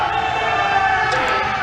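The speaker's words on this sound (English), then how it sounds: "Columbia just made a great shot over there. We can tell by the cheering." Spectators cheer across the venue after a bocce team scores during a team match at an open tournament, a steady, dense wash of crowd noise in a large hall, fairly loud and unbroken.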